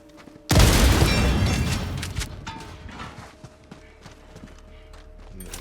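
A grenade bursts open a supply container in the video game Helldivers 2, one sudden loud boom that rumbles and decays over a couple of seconds, followed by scattered clanks and debris.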